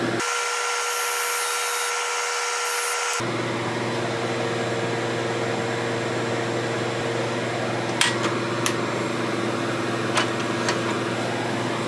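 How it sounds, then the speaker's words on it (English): A lathe hums steadily throughout, with a high metallic whine from a small parting cut on the workpiece early on, then a few short scraping clicks. "put just a little bit of a parting cut right there so that I can sand where I need to"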